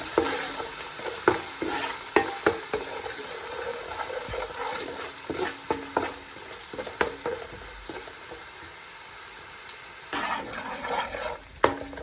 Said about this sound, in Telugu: కొంచెం వేగిన దాక ఫ్రై చేసుకోవాలండి